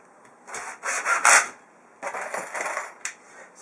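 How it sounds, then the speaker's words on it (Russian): A cordless screwdriver tightens surge protector modules (YXD10) on a DIN rail during electrical panel assembly, giving two separate bursts of whirring and rasping lasting about a second each, close and alone. "Я сейчас все ограничители затягиваю на усилие 8."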